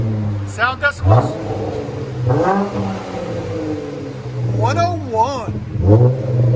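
Close, loud revving from a 2012 Dodge Challenger V6 with a rear muffler delete exhaust, the engine note sweeping up and down a few times as voices talk over it.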